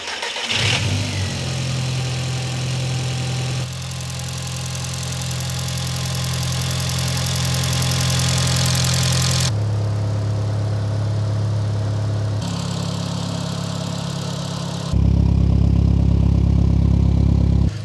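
A car engine turns over and catches for the first time in over four years, then settles into a steady, loud idle with a low rumble, shifting pitch a few times as it runs.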